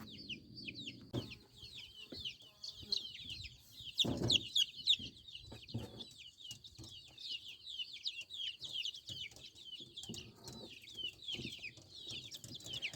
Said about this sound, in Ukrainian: Викладаю курчата по одному, тому що вони ще маленькі